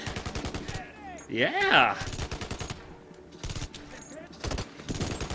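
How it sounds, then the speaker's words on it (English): Rapid automatic gunfire from the Kinect video game Blackwater, bursts of shots through much of the clip with a loud in-game explosion-like swell near the middle, mixed with a player's excited shouts. "My gun keeps on shooting when I don't see that I'm pointing at anything."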